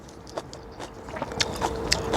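Crunchy raw lotus stem is bitten and chewed up close, giving a series of short crisp crunches that grow slightly louder as the chewing goes on.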